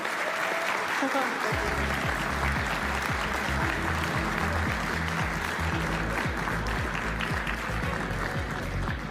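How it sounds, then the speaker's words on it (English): A pool tournament crowd at the European Open final applauds champion Joshua Filler, steady loud clapping under a talking commentator's voice with a thumping low beat of music running beneath. "Round of applause, ladies and gents."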